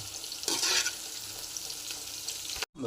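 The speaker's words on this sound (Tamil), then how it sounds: "இதே எண்ணெயில் புளி ஃப்ரை பண்ணி எடுத்துடலாம்" Broken tamarind pieces fry in oil in a pan for a small onion pickle, giving a soft, steady sizzle with a brighter crackling burst early on before cutting off abruptly.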